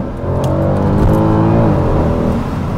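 A Mercedes C63 AMG with a naturally aspirated 6.2-litre engine revs loud and close, its deep harmonic roar rising and holding steady through the whole stretch.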